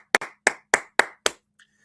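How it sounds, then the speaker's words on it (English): Five sharp, evenly spaced claps ring out close and alone, each a crisp single slap with a short tail, followed by a faint small tap near the end. "Give her a big round of applause."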